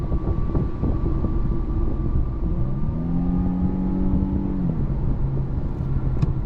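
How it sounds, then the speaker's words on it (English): A 2023 Infiniti Q50 Luxe accelerates from inside the cabin, a steady loud road and engine drone with a rising engine tone that climbs, then drops as it shifts gear. "look at that acceleration. It accelerates well, shifts well, and it sounds good too."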